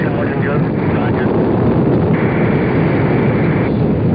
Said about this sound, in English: we are getting buffeted here now by the tremendous reverberations from that great engine